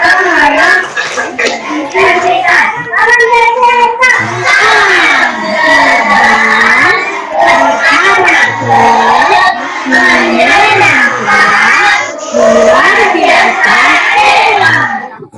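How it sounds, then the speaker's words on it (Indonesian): A class of children loudly performs the rhythmic PPK clapping chant in unison along with a video, with sharp claps punctuating their chanted voices throughout. "sekarang ayo kita melakukan tepuk PPK dan salam PPK"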